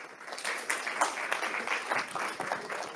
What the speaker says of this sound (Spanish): Muy bien, un aplauso, por favor.